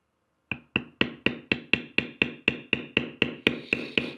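Steady, evenly spaced mallet taps on a steep angle beveler working leather, about fourteen sharp close knocks in a regular rhythm after a brief silence, no voices.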